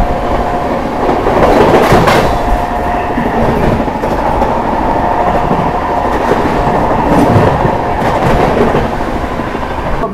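A Prayagraj–New Delhi Humsafar Express runs flat out at 130 km/h, heard from onboard as a loud, continuous rumble with rhythmic wheel clatter and a steady roar throughout.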